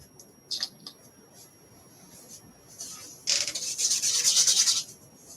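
Dry brushing paint onto a plastic action figure, a soft scratchy rubbing that starts with a few brief strokes, then swells into a sustained, close, fairly loud brushing passage before stopping.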